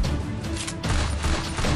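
Rapid gunfire in an online shooter video game, a dense continuous volley of close, loud shots crackling with little pause throughout.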